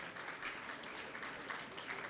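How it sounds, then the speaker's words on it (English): Applause from a seminar audience for a speaker named Glenn, a soft, steady patter of many hands clapping at a distance with no voices. "Give Glenn a huge clap"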